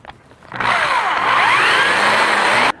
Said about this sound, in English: What I have to do is drill out the very head of the pop rivet, but not go through the molding